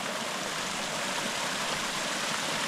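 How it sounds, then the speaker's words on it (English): A waterfall on a Highland hiking trail, a steady broadband rush of falling water, continuous and even with no breaks, heard fairly close with no talking. "A waterfall going on here."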